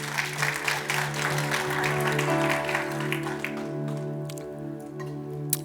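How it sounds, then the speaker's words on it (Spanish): Church congregation clapping during a Sunday morning service, a dense roomful of hands that thins toward the end over a sustained tonal drone, with a few isolated claps at the close. "Denle un aplauso al Señor porque Él es bueno"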